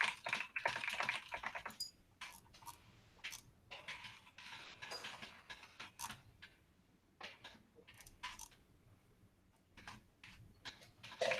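Computer keyboard typing at a remote community meeting, quiet irregular bursts of clicking keys, close and alone with no talk.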